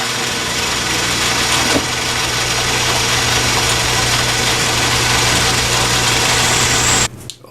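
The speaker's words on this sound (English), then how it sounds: "So I'll start with the center drill." Steady machine hum with a constant low drone and broadband whir from a lathe running a center drill into Delrin, cutting off abruptly near the end.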